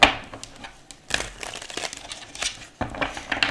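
Tarot cards are shuffled close up in quick bursts of papery riffling and crinkling, with a short pause partway through, in a quiet room.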